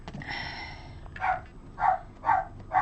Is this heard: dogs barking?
yes